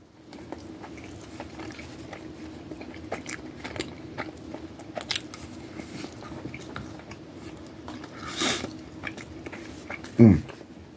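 Biting and chewing Zaxby's chicken tenders and toast, with soft mouth sounds under a quiet room tone and a sharper crunchy bite near the end.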